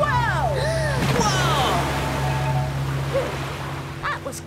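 Rough water surging and slapping against a small boat in a children's animated wildlife-ranger cartoon, a steady wash of surf under excited voices and music throughout.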